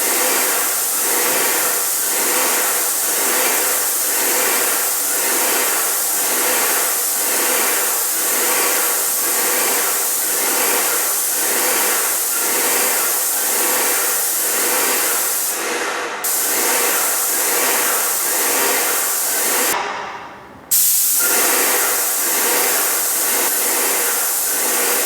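A paint sprayer blasts contract matte emulsion onto a ceiling in a steady, loud, continuous hiss with a faint rhythmic pulsing, cutting out briefly twice near the end before resuming.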